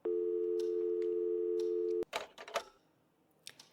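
Steady telephone tone from the horror game Scratches, a continuous droning electronic hum lasting about two seconds, cut off abruptly and followed by soft clicks and handling noises.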